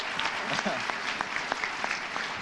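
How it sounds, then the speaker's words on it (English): An audience gives a round of applause for a leading female soccer player at a leadership event, with scattered individual claps in a moderate wash and voices talking over it. "Everybody, let's give her a round of applause"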